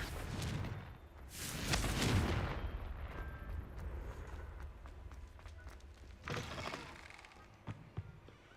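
Confringo fire-spell blasts in the Hogwarts Legacy video game: a loud, rumbling explosive burst early on, a second shorter blast later, and scattered crackling impacts between them, with no talking.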